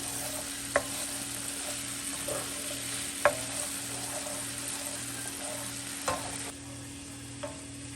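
Garlic sizzles in a pan on a stove top, a steady close frying hiss broken by a few sharp clinks and scrapes of stirring, with no talking.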